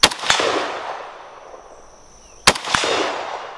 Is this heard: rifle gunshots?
yes